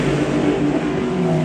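GT3 race cars on a track, led by a BMW, with a loud continuous engine roar carrying steady pitched tones through a brief pass, no voices.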